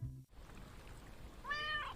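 A cat in a garden gives a single short, plaintive meow near the end, fairly close and clear, preceded by a low background hum and a brief cutoff.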